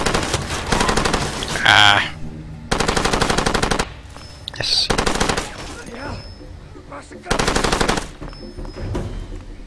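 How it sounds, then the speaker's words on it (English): An enemy machine gun fires in Far Cry 2, loud close bursts of rapid automatic shots in three separate rounds with pauses between, while a player speaks anxiously over the shooting. "Is he on a machine gun? Yes, he is."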